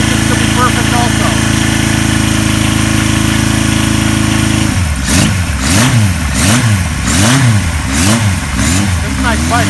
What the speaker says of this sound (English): This motor's really cold. Clutch in.